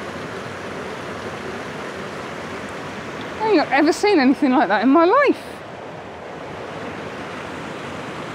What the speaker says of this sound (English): Some really nice little waterfalls over there